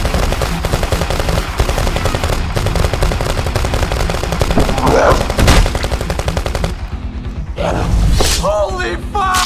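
Rapid bursts of gunfire crackle through an animated countryballs zombie film, loud and nearly continuous, with shouting voices and other effects mixed in.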